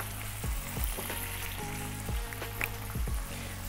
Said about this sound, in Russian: В процессе обжаривания креветки свернутся.